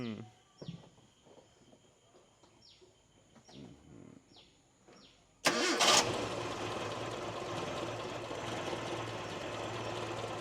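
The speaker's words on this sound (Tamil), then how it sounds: "இன்ஜினை ஸ்டார்ட் பண்ண சொல்லியிருக்கிறோம்" A car engine cranks with several quick starter whirs, then catches and roars loudly to life, settling into a steady idle.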